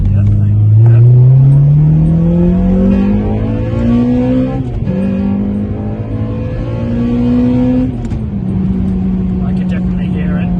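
Honda Civic Type R engine revving, its intake drawing air with a rising, droning tone that climbs, drops and climbs again, loud and close throughout, without talk.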